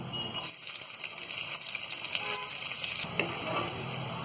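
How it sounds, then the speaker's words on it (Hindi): Onions frying toward light golden brown for chana bhaji keema, a steady close sizzle with faint stirring clicks throughout, no talking. "अब हम ये प्याज डाल देंगे और प्याज को हम हल्का गोल्डन ब्राउन होने तक फ्राई करेंगे।"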